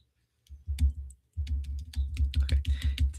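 Keys on a computer keyboard are pressed for a shortcut: a couple of isolated clicks, a short pause, then a quick, even run of close taps.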